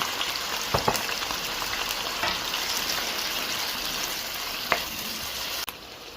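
Chopped onions frying in hot sunflower oil, a steady dense sizzle that holds even and close throughout, with a couple of faint clicks of a utensil and one sharp knock near the end.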